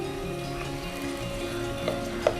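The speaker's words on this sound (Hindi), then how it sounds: "चिकन एक साइड से फ्राई हो जाए तो उसकी साइड चेंज कर दीजिए" Chicken pieces frying in a pan, a steady soft sizzle with a couple of faint clicks near the end, no voices.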